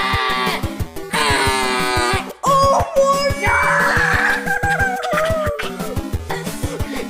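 High, strained screeching and squealing from a video game character, repeated in bursts over a constant game soundtrack with a steady beat, loud and close, with brief pauses between outbursts.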